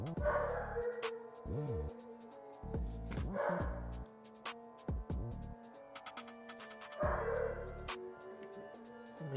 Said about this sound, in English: Let me hear my pup, Bruce.